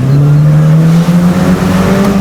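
Small 2019 Mini Cooper S Cabriolet engine revving loudly up close, a buzzy rising drone that dips briefly and climbs again.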